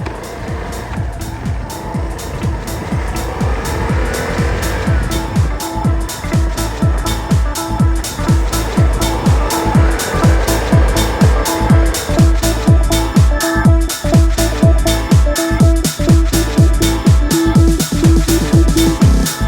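A Vespa ET4 150cc scooter with a freshly cleaned Walbro WVF6 CV carburetor runs steadily nearby, its engine note loud and continuous with rhythmic pulsing and a few rises in revs.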